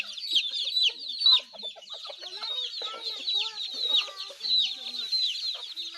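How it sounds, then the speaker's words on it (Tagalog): A flock of farm chickens clucks and chatters nearby, many overlapping calls in an irregular, busy stream, clear against a quiet background. "Daghan kay mig manok diri ning katap."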